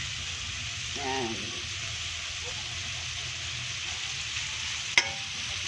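Shrimp and white onion sizzle and crackle in a hot pan with steady frying noise throughout, a brief stir at about one second and a sharp clink of a utensil near the end.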